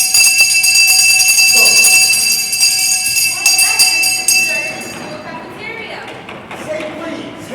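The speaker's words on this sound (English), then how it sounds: "I need you to help until the passing bell rings." An electric school passing bell rings steadily and loudly for about five seconds before cutting off, in a stage play set in a school cafeteria, with voices talking over it and continuing after it stops.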